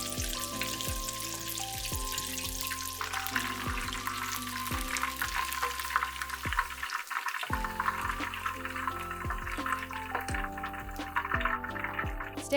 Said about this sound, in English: Fry for about 1 to 2 minutes until the crust turns a deep golden brown.